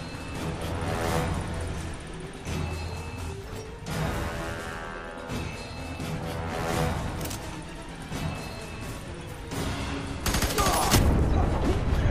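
Sustained squad gunfire in the F.E.A.R. 3 video game, dense overlapping bursts of automatic fire and impacts running the full stretch, loud and continuous with crashing hits near the end.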